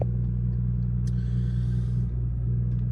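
A BMW 440i M Sport coupe idles with a steady, loud low engine rumble that holds evenly throughout, heard from inside the car with a brief faint mechanical rattle partway through.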